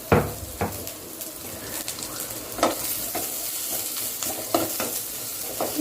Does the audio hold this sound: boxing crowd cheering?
no